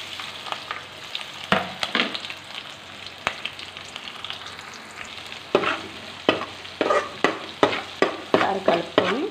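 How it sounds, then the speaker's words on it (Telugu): Green chillies and chopped ginger fry in a pan while being stirred. A steady close sizzle runs throughout, broken by sharp scraping stirs near the start and then in a quick rhythmic series toward the end, with no talking. "పచ్చిమిర్చి 2, అల్లం తరుగు చిన్న ముక్క ఫస్ట్ వేసి వేయించుకుందాం."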